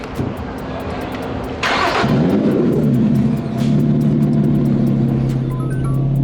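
A Lotus Evora GT's V6 engine cranks briefly, catches with a sharp rising roar, then settles into a deep, steady idle rumble close by.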